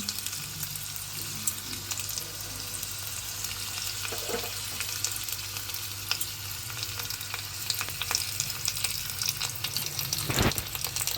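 Chopped ginger and green chillies fry in hot oil in a pan, a steady close sizzle with occasional stirring scrapes and a sharp crackle near the end.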